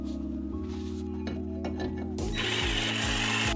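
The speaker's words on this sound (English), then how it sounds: "we use our ratcheting spreader to push back the dual pistons" A ratcheting spreader clicks steadily as it pushes back the dual pistons of a brake caliper on a 2015–2020 Ford F150 with electric parking brake, a close, rhythmic run of metallic ratchet clicks over a background hum.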